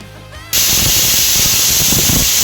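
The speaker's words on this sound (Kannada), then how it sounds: "ಹೇಳ್ತಾ ವಿಷಲ್ ಕೂಡ ಶುರುವಾಯ್ತು." A pressure cooker whistles loudly while cooking palak bath, a sudden steady high-pitched hissing shriek that starts after a brief quiet moment and then holds at full strength.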